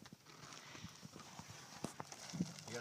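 Several horses walk with hooves clip-clopping in an irregular, overlapping rhythm close by, while people talk and call out in the background.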